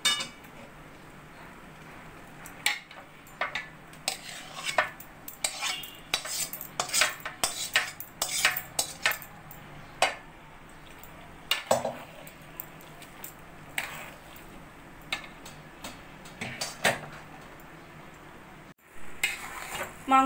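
A spoon scrapes and clinks against a pot as chicken meat is stirred for tehari, irregular metallic knocks and scrapes close up over a low sizzle, pausing briefly near the end.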